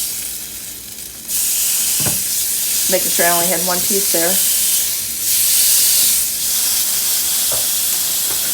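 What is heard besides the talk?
chicken sizzling on indoor grill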